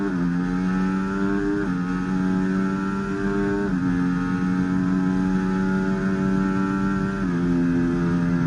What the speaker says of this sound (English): First car on track is Harvey